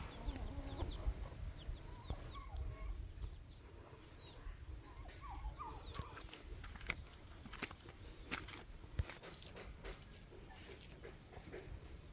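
Chickens clucking in scattered bursts, close and moderately loud, over a low background of farmyard noise.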